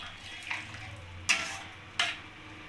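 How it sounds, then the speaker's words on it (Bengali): Pumpkin chhokka with chopped coriander leaves stirred in a pan, a spoon scraping with two sharp clinks against the metal over a quiet sizzle, close and brief. "এবার ভালোভাবে নাড়িয়ে নিলাম।"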